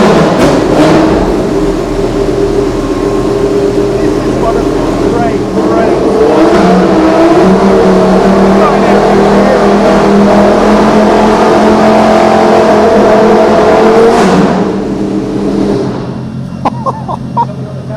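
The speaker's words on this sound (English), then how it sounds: "this is one of the great sports car engines" A V10 Le Mans prototype race car engine roars and revs continuously for most of the clip, loud and close, then drops away near the end with a few sharp blips.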